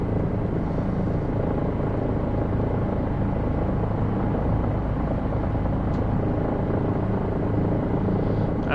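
Bell helicopter simulated in X-Plane 11 (Dreamfoil model) hovering, with a steady, loud continuous rotor and turbine drone that holds without a break for the whole stretch.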